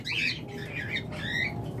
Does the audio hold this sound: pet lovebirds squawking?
yes